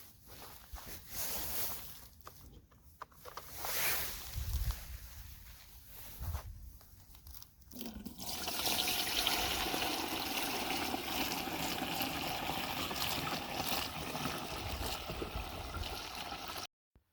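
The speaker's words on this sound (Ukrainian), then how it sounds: "І коли все гарно розчинилося, виливаю все до бачка." Dissolved spray solution pours from a bucket into a sprayer tank for blueberry bushes, a steady close splashing gush that starts midway after quieter handling noises and runs on to the end.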